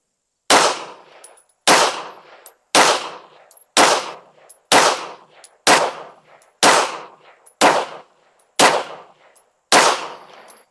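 Ten evenly spaced pistol shots from a Beretta APX A1 firing Steel Valley Casting reloads at a range, each a loud, sharp crack with a short decay, about one per second with no talk.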